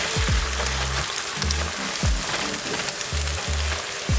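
Eggs sizzling in a pan of hot vegetable oil while being stirred for fried rice, a steady close frying hiss with repeated low scraping strokes from the mixing utensil.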